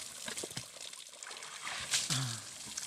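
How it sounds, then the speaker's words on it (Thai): Water splashed onto the body during an outdoor bath in Thailand, with intermittent splashes and pouring, trickling sounds at moderate loudness, a brief bright splash burst partway through, and faint voices in the background. "เขาจะสาดน้ำใส่ตัวก่อนนะฮะ"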